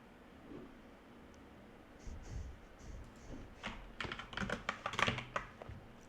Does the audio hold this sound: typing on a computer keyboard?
yes